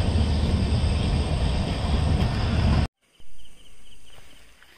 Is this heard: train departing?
yes